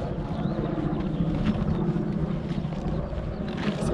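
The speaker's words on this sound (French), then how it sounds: "C'est un hélico de l'armée qui nous survole." An army helicopter flies overhead above a heathland hiking trail near a lake. A continuous low, rumbling drone fills the air, loud and steady throughout, with wind noise mixed in.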